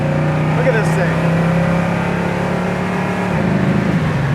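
A 1967 Pontiac Firebird convertible pulls away in first gear, its engine droning loud and close with a steady low rumble that rises in pitch as it accelerates, voices faintly audible over the motor.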